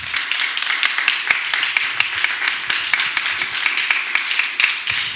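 Sustained applause from an audience at a Transgender Day of Visibility 2022 event, many hands clapping at a fairly even, brisk pace with distinct sharp claps poking through the dense wash.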